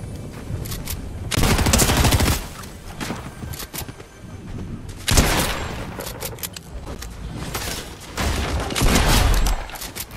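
Rifle gunfire in Fortnite comes in rapid, loud bursts of repeated shots, separated by short gaps, with a few heavier impacts mixed in.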